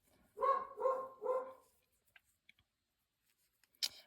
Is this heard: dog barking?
yes